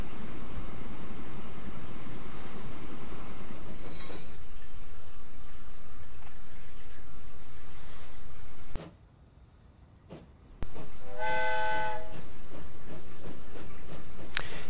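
A simulated train engine labours under a heavy load in a train simulator game, a continuous low rumbling drone with hissing and faint tonal whines, broken by a brief near-silent gap before the engine noise resumes.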